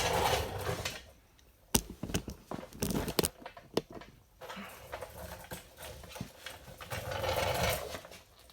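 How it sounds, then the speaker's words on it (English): A hand ratchet loosening a tight 14mm bolt that holds the alternator on a Toyota MR2 Turbo SW20 clicks in short bursts, with sharp metallic snaps and pauses between strokes, close by. "And just undo that 14mm bolt."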